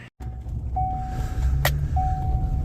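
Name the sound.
delivery vehicle arriving at the farm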